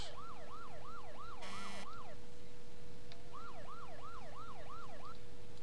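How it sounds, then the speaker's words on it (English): A fire truck's wailing undercover siren sweeps up and down repeatedly, broken by a short electronic burst, then resumes its rising and falling cycles, loud and close. "It's the undercover siren."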